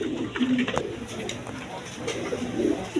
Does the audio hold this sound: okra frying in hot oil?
no